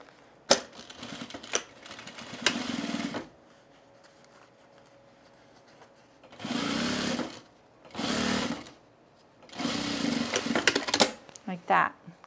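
A domestic sewing machine runs a seam on men's cargo shorts in several short bursts, rapid mechanical stitching with pauses and soft handling clicks between runs.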